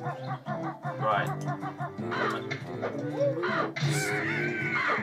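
A bird in the Banjo-Kazooie video game caws repeatedly in loud, close, rhythmic calls set over game music, with a brief burst of noise near the end.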